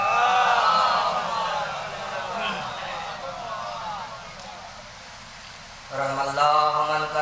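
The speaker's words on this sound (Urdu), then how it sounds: "بابا سے بلند نعرے صلوات سے ان کا خیر مقدم" A crowd at a Muharram mourning procession chants salawat in unison to welcome a cleric. Loud, rhythmic massed voices at the start ease into a quieter murmur, then a fresh burst of chanting swells up near the end.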